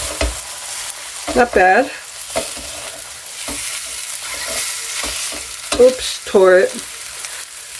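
A whole egg fries in a pan with a steady crackling sizzle, broken by brief spoken remarks and a few light scraping knocks as it is flipped.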